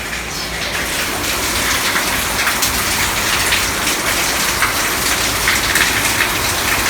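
Heavy rain pours steadily on a house in Beani Bazaar, Bangladesh, a dense, close, continuous hiss of drops hitting surfaces with no break and no voices.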